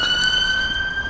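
An ambulance siren passes along a riverside in Norwich, a loud, steady wailing tone close by and alone, with no talking over it.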